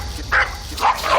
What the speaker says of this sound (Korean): 딸기가 짖으니까 그냥 거기에 대해서 짜증이 났어요